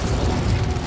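The Incendio fire spell in Hogwarts Legacy goes off as a dense, loud, crackling burst that lasts under a second.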